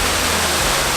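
Katahdin Stream Falls roars as a steady, close, full waterfall wash with no voices.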